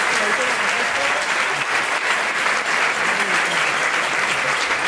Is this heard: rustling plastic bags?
no